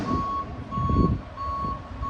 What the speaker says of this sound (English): This fucking truck gonna be as loud as it possibly goddamn can.